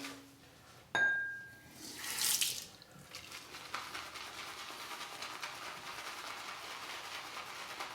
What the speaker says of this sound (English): It's going to take a little more water.